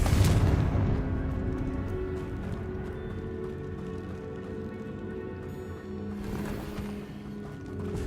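Confringo fire-blast spell explosions in the Hogwarts Legacy video game, a heavy booming burst at the start followed by rumbling low-end impacts and a second bright blast near the end.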